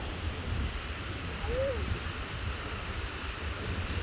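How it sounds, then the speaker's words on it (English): A park waterfall rushing steadily, a broad continuous wash of water noise filling the clip at moderate distance, with a brief faint whistle-like tone partway through. "You see the waterfall?"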